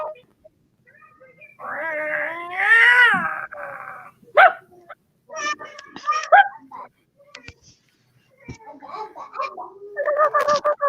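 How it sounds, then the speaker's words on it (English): A dog whimpers and yips in high, wavering cries during a home live stream, with bursts of whining broken by short pauses and some talk mixed in. "dog."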